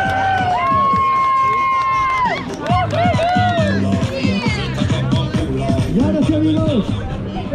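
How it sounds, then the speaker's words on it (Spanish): At a game during a party at an adults-only resort hotel in Cancún, a lively crowd cheers and shouts for the winner. Excited voices, whoops and some clapping rise in bursts, close by. "Big Applause for the winner of today."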